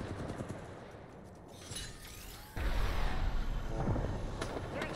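Gunfire in Apex Legends during a trios match: scattered shots and distant bursts give way to louder, denser sustained fire and impacts in the second half, with no talk.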